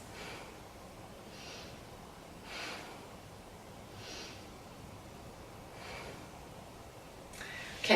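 Slow, deep breaths during a seated yoga twist, soft airy inhales and exhales repeating every second or so, faint and close in a quiet room.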